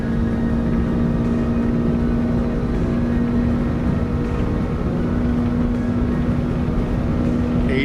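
Three jet engines of a Saudia L-1011 TriStar spool up to takeoff power in MSFS 2024, a loud, steady, close roar with a constant droning hum that holds evenly throughout.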